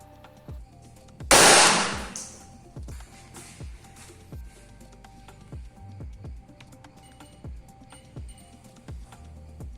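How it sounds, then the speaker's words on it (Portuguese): An electrolytic capacitor driven to 30 volts bursts with one sharp, loud pop and a brief hissing rush. Faint scattered clicks and taps follow in the quiet afterward. "Vamos analisar o resultado aqui da explosão"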